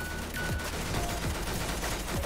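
Rapid gunfire rattles in the Roblox game Arsenal, with continuous loud bursts of shots and a few clicks and tones from the game.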